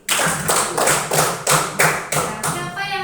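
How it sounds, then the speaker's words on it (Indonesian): Students in a classroom clap for a classmate in a loud, close, rhythmic unison pattern, about seven even bursts of hands striking together, the last fading into a brief tonal tail. "tepuk tangan buat Alfi"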